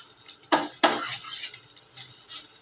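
Drumstick flowers and egg being stir-fried in a pan, with two sharp spatula knocks against the metal early on and soft, steady sizzling and scraping throughout, no voices.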